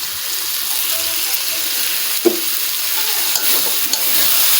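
Leafy greens (shak) frying dry in a pan give off a soft continuous sizzle, with a few faint scrapes and clicks as they are stirred over a long stretch.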